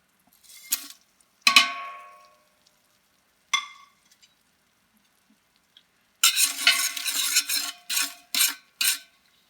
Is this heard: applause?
no